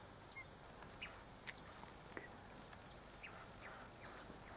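A flock of about a dozen white-winged choughs under an Aleppo pine gives scattered faint, high calls from a distance over steady outdoor background noise.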